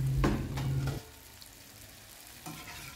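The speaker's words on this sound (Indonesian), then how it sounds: "Selama proses menggoreng lumpia yang sudah kita gulung, kita aduk-aduk terus ya teman-teman." Rolled spring rolls fry in caramelized sugar in a pan, stirred steadily, giving a soft sizzle under a few scraping strokes, first fuller and then quieter, close by with no talk.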